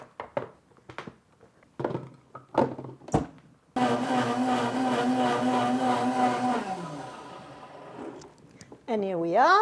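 A countertop blender purees ingredients seasoned with half a teaspoon of salt, a loud steady whirring motor running for several seconds after a few handling clunks, then winding down as a voice speaks over the end.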